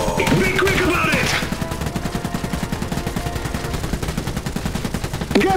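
Steady, rapid machine gun and rifle fire in a battle between Polania and Rusviet forces in the game Iron Harvest, loud and continuous with rhythmic bursts, while a voice calls out over the shooting.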